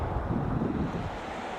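Pacific Ocean waves wash beneath gusting wind off Kodiak Island, a rough, close, continuous rush with heavy wind buffeting across the microphone.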